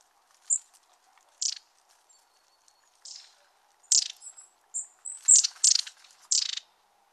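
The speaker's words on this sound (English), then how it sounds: "That's long-tailed tit as well." Long-tailed tit calls and song in a dawn chorus, a scatter of thin, very high-pitched chirps and trilled notes, sparse at first and then clustering more densely, fairly close and clear against a quiet background.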